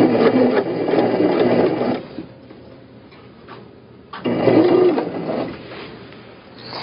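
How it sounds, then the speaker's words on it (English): A sewing machine runs in two bursts of stitching along the half-inch seam of a tote bag, with a quiet pause between them and no one speaking. "Go ahead and start your stitching."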